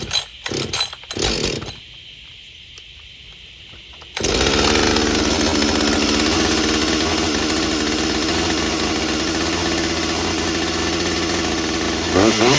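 A Husqvarna 562 XP chainsaw engine cranks with a few pull sounds, then catches and settles into a loud, steady, buzzing fast idle that runs continuously to the end.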